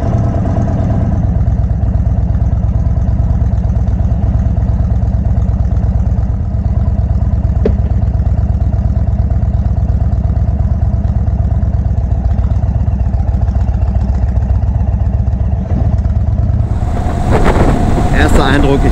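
Indian Chief Dark Horse motorcycle engine on its first ride, a steady, loud low rumble running continuously throughout with a slight rise in revs near the end.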